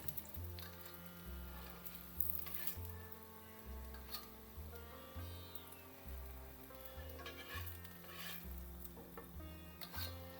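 Chicken mince cutlets frying in oil in a pan after being turned over on raised heat, a faint, even sizzle with light stirring noises under louder background music.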